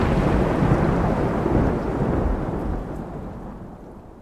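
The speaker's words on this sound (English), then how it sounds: "a bolt of lightning lights up the sky, followed immediately by an intense clap of thunder" Thunder cracks right after lightning during a long-raging rainstorm, a loud, broad rumble that fills the sound from the start and then slowly fades away into the rain.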